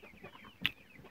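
A Cochin chicken gives a single short cluck, fairly close, against a quiet farmyard background.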